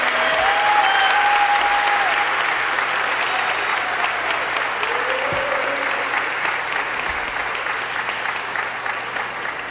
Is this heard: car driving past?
no